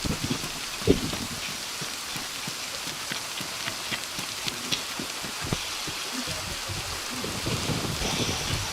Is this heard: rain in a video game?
yes